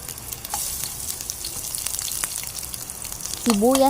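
Onion and garlic sauté in a hot pan with a steady, close frying sizzle, punctuated by a few light clinks before a brief voice cuts in at the end.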